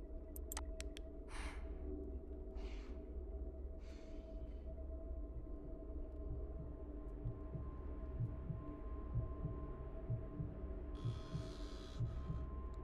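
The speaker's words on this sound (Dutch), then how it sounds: "Ik hoor een hartklopping." A heartbeat effect in the horror video game Welcome to Kowloon throbs as a steady, low, muffled pulse over a constant dark hum, with a few faint clicks and a hiss late on.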